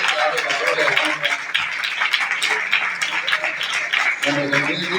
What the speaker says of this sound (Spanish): ¿Qué tal si le da un aplauso más fuerte a Dios?